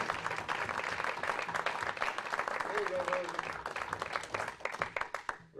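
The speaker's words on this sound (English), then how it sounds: "so give her a warm round of applause" An audience at an event with a Bill Clinton impersonator claps warmly, a dense, continuous round of applause that tapers off at the end, with someone briefly talking over it.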